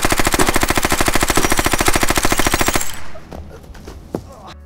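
Rapid machine-gun style gunfire sound effect fires a dense, evenly spaced burst of loud shots for about three seconds, then cuts off abruptly, leaving faint room noise and a single small knock.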